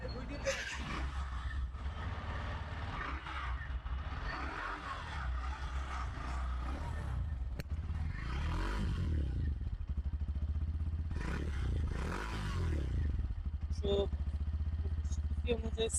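A Hero Glamour X 125 fi motorcycle engine runs steadily close by, a continuous low throb that swells briefly in a few spots, with someone talking over it.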